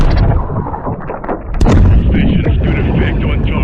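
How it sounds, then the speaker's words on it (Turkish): Loud booming blasts with rumbling low end and a sharp crack midway, an explosion in Call of Duty: Modern Warfare 3 amid heavy gunfire. "Patlamaya hazır olun."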